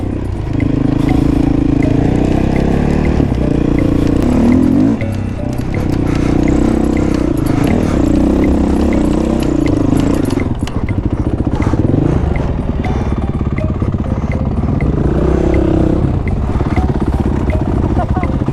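Dirt bike ridden along a rutted trail, its engine buzzing loudly and revving up and down with rattling clatter, mixed with voices talking over it.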